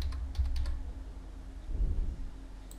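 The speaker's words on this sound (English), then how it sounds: "let me type here" Typing on a computer keyboard in a quiet room, with a short burst of clicky keystrokes near the start and a quieter patter of keys toward the end over a low background hum.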